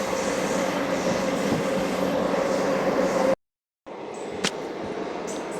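A Secunderabad–Siddipet DEMU train runs past a station without stopping, giving a loud, steady rolling rumble that cuts out briefly near the end and then resumes.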